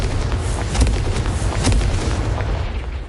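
Confringo fire spell blasts in the video game Hogwarts Legacy, a run of booming explosive impacts with crackling bursts, loud and close over a constant rumble.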